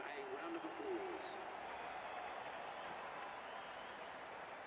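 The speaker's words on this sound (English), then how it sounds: "A round of applause." Faint, steady crowd applause rolls on through an India vs Australia T20 match in Cricket 24, a distant wash of clapping under a brief commentator's voice near the start.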